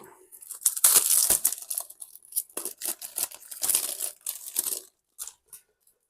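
Plastic wrapping is torn and crinkled off a Blu-ray disc case in close, loud bursts of tearing and rustling that come in bunches, then thin out into a few soft final crinkles.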